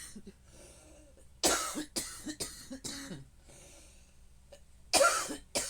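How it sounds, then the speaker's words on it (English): Several short, harsh coughs in separate bursts, close and fairly loud, with quiet breathing pauses between them and no talking. "this nonsense is making me cough"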